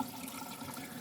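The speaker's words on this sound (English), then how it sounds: "Rinse off the thing a little bit because it spills over." Quiet, steady run of tap water splashing while a container is rinsed at a sink, a soft continuous hiss with no voices.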